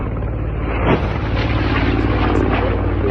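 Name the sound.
attack helicopter flying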